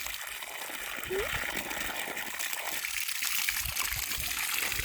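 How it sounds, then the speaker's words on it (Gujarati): Water flows and rushes steadily throughout, a broad constant hiss that holds at a moderate level, with a faint voice-like sound briefly audible early on. "જો પાણી"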